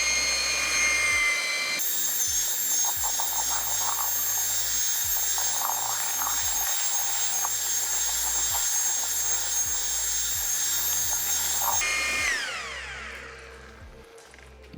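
A drill spins a paddle through floor smoothing compound in a bucket, a loud, steady motor whine with churning slurry that runs throughout before spinning down near the end.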